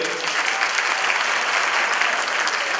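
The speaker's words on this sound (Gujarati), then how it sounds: "આને કહેવાય તાળીઓનો ગડગડાટ." Audience applause at a community gathering after a young girl's stage performance, with dense, loud, sustained clapping from a large crowd.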